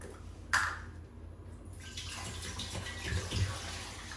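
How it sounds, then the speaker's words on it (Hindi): Water for a sweet saffron rice dish is poured into a small bowl in the kitchen: a sudden splash, then a continuous close trickle and slosh that swells again near the end. "कटोरी में पानी को डालेंगे।"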